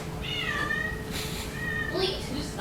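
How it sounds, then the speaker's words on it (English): A cat meows repeatedly indoors, drawn-out cries rising and falling, moderately loud over a faint background hum. "Got some interesting cats living here."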